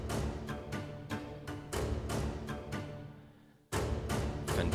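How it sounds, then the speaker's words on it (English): Rhythmic col legno string hits from the Albion One sample library, sharp wooden taps repeating in a quick pattern over a dense, loud orchestral bed, with a brief dip before the hits resume. "I added from Albion One some collegno hits"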